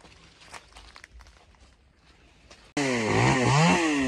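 Soft rustling and shuffling steps, then a chainsaw abruptly roars to life nearby to cut a large eucalyptus tree, loud and revving up and down.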